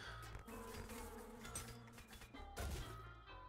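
Wasps buzz in a trippy turn-based roguelike video game, a steady droning hum over layered game sounds, with a dull thunk near the end and no talk.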